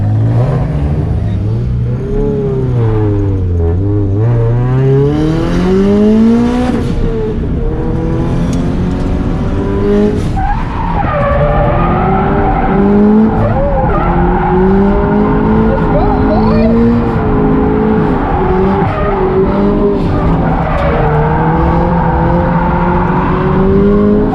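A turbocharged Scion FR-S drifts with its engine revving and wailing up and down continuously, loud and close from inside the car, with talking over it; the tire squeal is not clearly distinguishable.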